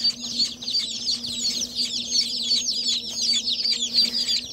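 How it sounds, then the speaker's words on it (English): Several young ducklings peep continuously in a brooder, high rapid chirps overlapping close by with a steady low hum underneath. "Uh-oh, we got another duck."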